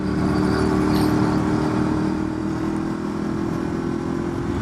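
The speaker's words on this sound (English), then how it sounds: "Do you want to just hear the engine?" A Ducati Streetfighter motorcycle engine idles and runs at low revs, a steady deep rumble close by that holds level throughout with no talking.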